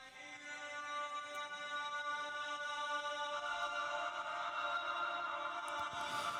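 An Eastern-style music sample plays steadily with sustained tonal layers, growing fuller and brighter about halfway through, with no talking.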